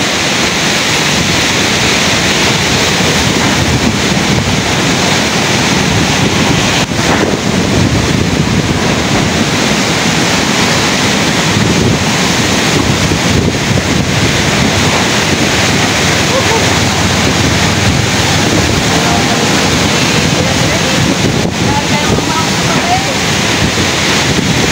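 Typhoon Kristine's strong wind and surf pound the shore in a loud, continuous roar of gusts and crashing waves, with wind buffeting the microphone throughout.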